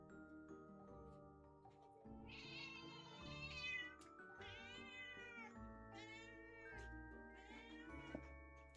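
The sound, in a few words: pet cat meowing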